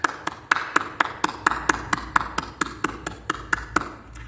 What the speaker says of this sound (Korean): 우리 이 시간에 이제까지 수고해 주신 권영국 목사님을 보내주신 하나님께 감사의 영광의 박수를 하나님께 드리겠습니다